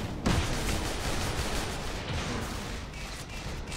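Weapon fire in the video game Tribes Ascend, a loud blast at the start followed by continuous rattling shots and impacts throughout.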